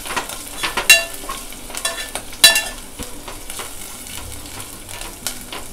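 Curry leaves and grated ginger fry in a pan, a soft steady sizzle with a few sharp clinks of a spoon against the pan, close and alone with no talk.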